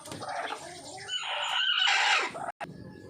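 Hens about to lay cluck and cackle in a drawn-out, rising call close by on a farm in a morning setting, one bird dominant with soft background clucks, no talking.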